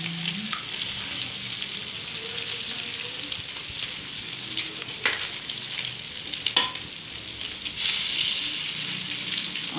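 An egg fries in a pan on a gas stove with a steady, close sizzle and crackle throughout, broken by a few sharper pops and scrapes.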